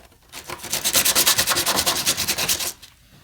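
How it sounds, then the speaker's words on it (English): Sandpaper rubs briskly over a 1970s decanter set in a quick run of about a dozen rhythmic back-and-forth strokes, close and fairly loud, with no talking. "I hit it with a sandpaper"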